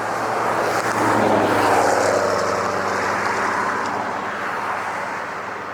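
A large jet aircraft pushing back at LAX produces a steady, loud, broadband roar of engines and ground noise that swells slightly and then eases over several seconds, heard from a distance with no voices.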